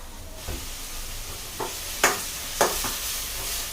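Onion with whole coriander, cumin and asafoetida sizzling in hot oil in a pan for samosa filling: a faint, steady frying hiss broken by a few sharp scrapes and stirring clinks, with no talk.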